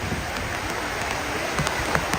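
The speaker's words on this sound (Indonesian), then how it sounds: "Hujan guys." Steady, close rain hisses and patters on a surface, with scattered louder drops in a continuous wash.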